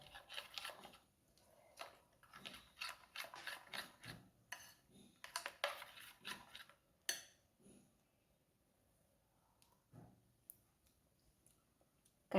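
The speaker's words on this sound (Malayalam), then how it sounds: "ഇതെല്ലാം കൂടിയിട്ട് നമുക്കൊന്ന് മിക്സ് ചെയ്യാം" A spoon works neyyappam batter in a bowl, giving quiet, close clicks and scrapes in irregular bursts separated by brief pauses, with no talking.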